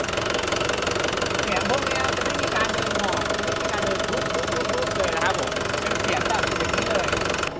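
A HELI 3-ton K2 Series CPCD30-Q22K2 forklift engine runs at a steady, loud idle with a rough knocking rattle, while someone talks over it.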